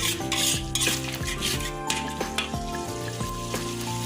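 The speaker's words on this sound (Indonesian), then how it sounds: "Biarkan mendidih." A pot of liquid with coconut milk and seasoning bubbles on the stove while a utensil stirs and scrapes against the pan in quick, close, busy clatters with a sizzling hiss underneath.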